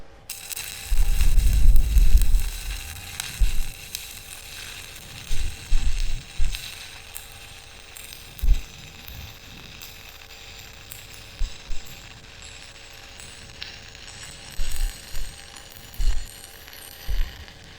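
A broken metal piece being welded, with a crackling, sputtering buzz in uneven bursts and a clanking thump of handling near the start, close and moderately loud without speech.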